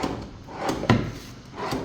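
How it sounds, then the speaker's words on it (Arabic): Wooden drawers of a modern dressing table sliding open and shut, giving a few soft knocks and thuds at close range, with one sharper bump in the middle; no one speaks. "ده الدرج اللي انت قلت الغي الطبقين وعملتهم لك درجين"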